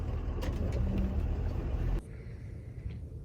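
A truck's engine rumbles steadily up close as it circles around to back up for loading a drive line, then the engine noise drops sharply, leaving a quieter hum with faint knocks.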